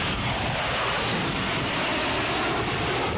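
Blue Angels A-4F Skyhawk jets make a precision pass over a waiting crowd, a loud, steady roar of jet engines that fills the whole stretch without any voices.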